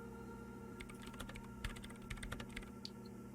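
Keys tapping on a computer keyboard in the video game Disco Elysium: a scattered run of light, clicky keystrokes at an uneven pace over a steady low machine hum, with no talking.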